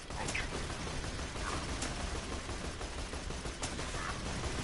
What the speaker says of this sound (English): They got laser turrets.